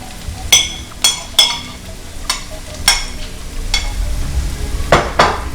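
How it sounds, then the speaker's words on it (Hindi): Chopped garlic fries in a pan, giving a low sizzle beneath repeated close, sharp clinks and scrapes of a utensil stirring against the metal pan. "इसको हम 5 मिनट के लिए फ्राई करेंगे। अब इसमें जाएगा चॉप किया हुआ लहसुन।"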